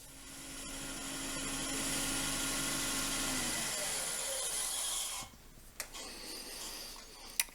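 Hand sanding a wooden hollow form on a woodturning lathe with sanding paste: a steady, broad rasping rub with a faint motor whine beneath, fading out after about five seconds, followed by a few light knocks.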